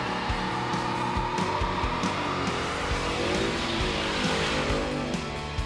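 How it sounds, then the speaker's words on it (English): A 2015 Ford Mustang GT doing a line lock burnout, its V8 engine roaring steadily while the rear tires spin and squeal continuously, loud and close throughout with no talk. "The driver can, at that point, apply throttle and spin up the rear tires."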